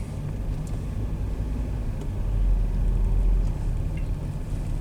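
A car rolls into a rubbish dump with a steady low engine and road rumble heard from inside the cabin, swelling slightly midway.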